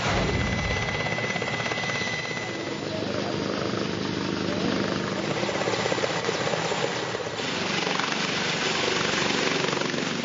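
A helicopter lands in darkness, its steady rotor and engine roar loud and continuous throughout, swelling slightly near the end.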